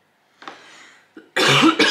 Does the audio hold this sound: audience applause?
no